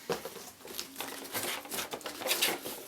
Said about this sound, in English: Let's get rid of that paper.